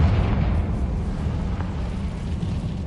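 A Confringo fire spell blast in Hogwarts Legacy, a loud sustained explosive roar with heavy low rumble that fills the whole stretch at steady intensity.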